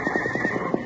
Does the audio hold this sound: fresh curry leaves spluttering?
no